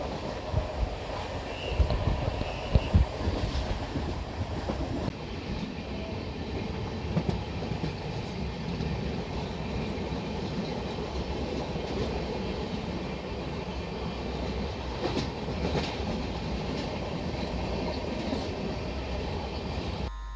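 Heard from on board, the Mumbai–Madgaon Jan Shatabdi Express runs along the single-track Konkan Railway, a continuous rumbling roll with faint wheel clatter and wind rush throughout.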